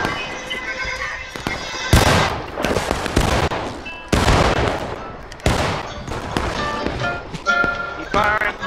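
Rapid rifle volleys in the War of Rights battle game, with repeated loud sharp cracks crowding one another over several seconds while players shout commands over them.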